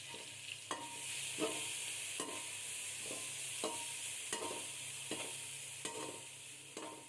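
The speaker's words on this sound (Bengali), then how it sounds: "পেঁয়াজটা লালচে করে ভেজে নেব মানে বেরেস্তা করে নেব" Chopped onion fries in oil left over from frying meat, browning to a crisp golden colour. A continuous close sizzle runs under regular scraping stir strokes, about one every three-quarters of a second, with no voices.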